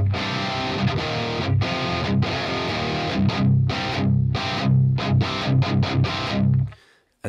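Heavily distorted electric guitar run through the Neural DSP Fortin Nameless amp plugin, playing loud, dense chugging riffs with short gaps between phrases, alone with no talk, until the sound stops abruptly at the end.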